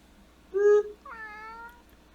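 A house cat meows twice close by, a short bright call followed by a longer drawn-out meow, with faint quiet room noise around it and no talking.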